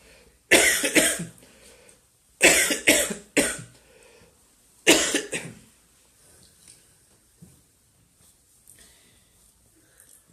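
Several bursts of coughing from one person, in three clusters of two or three harsh coughs each, close and fairly loud, with quiet gaps and faint breathing between them.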